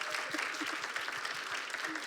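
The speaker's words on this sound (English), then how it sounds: "So I think that's worth a special round of applause." Audience at an author conversation event applauding, a steady round of clapping from a moderate crowd with a few distinct near claps.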